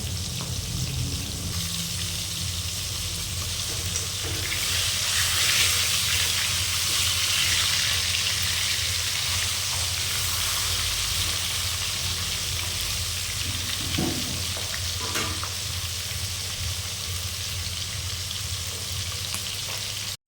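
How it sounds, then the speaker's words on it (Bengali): Rohu fish heads frying in oil, a dense, loud, steady sizzle and hiss lasting throughout, close up, with a few faint utensil taps and no talk. "মাছের মুড়োগুলো আমরা একটু কড়া করে লাল করে ভেজে নেব প্রথমে"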